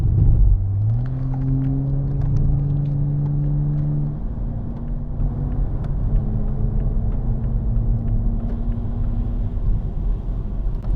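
Light race car engine, around 800 to 900 kg car, droning at steady pitch as it drives a lap, shifting through gears with rising and falling tones under a constant rumble, heard from inside.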